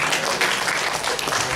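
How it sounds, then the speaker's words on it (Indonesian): Audience applause at a church seminar on the church and identity politics as the presenters return to their seats, a dense, steady wash of many hands clapping that fills the whole moment without any voice over it. "Kita beri kesempatan untuk kembali ke tempat dan diiringi dengan tepuk tangan."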